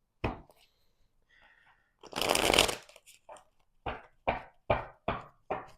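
Tarot cards being shuffled by hand, a sharp riffle followed by a longer cascading shuffle, then a run of evenly spaced crisp taps as the deck is squared and settled, close and quiet with no talk.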